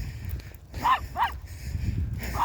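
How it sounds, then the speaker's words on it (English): A dog out on a walk barks twice in quick succession and then once more a moment later, fairly close, over a low outdoor rumble. "That's right, Max, you don't need to warn them."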